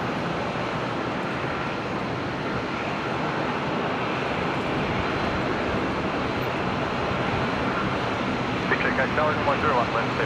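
A Life Flight Challenger jet taxis out from the hangar across a closed runway toward departure at Brisbane airport, a steady broadband engine roar holding constant throughout, distant-to-mid range with no pauses.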